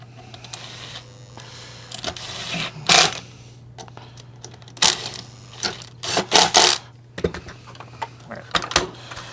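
Coarse sheet-metal screws being driven into a Kirby vacuum housing with a power driver, giving several short whirring bursts amid clicks and handling noise, with a steady low hum underneath.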